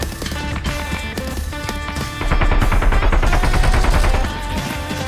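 Rapid automatic gunfire rattles in bursts in a first-person shooter video game, loud and close, with dense repeated shots that intensify midway before easing off.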